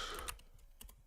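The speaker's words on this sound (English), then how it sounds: "Keyboard so fast." Quick computer keyboard typing, a short burst of crisp key clicks followed by a few scattered taps, faint and close.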